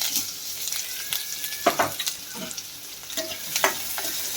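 Onions sizzle and crackle in hot oil with garlic, curry leaves and fennel seeds, with intermittent scraping and stirring of a spoon in the pan.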